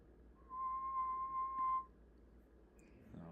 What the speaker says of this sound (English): I'm going to try and whistle a different pitch this time,